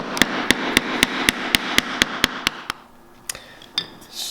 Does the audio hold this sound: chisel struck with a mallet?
yes